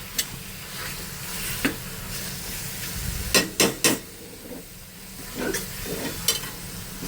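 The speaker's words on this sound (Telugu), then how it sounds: "మూడు నాలుగు నిమిషాలు మీడియం ఫ్లేమ్లో పెట్టి మూత లేకుండా వేయించుకోవాలండి మటన్ని కైమాని మంచిగా ఫ్రై అయిద్ది" Mutton kheema frying uncovered in oil over a medium flame, a continuous soft sizzle with scattered spoon scrapes and a cluster of sharp clanks against the pan midway.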